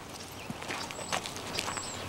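A horse walks with hooves clip-clopping in a loose, uneven rhythm of sharp knocks over a rustling background, with no talking.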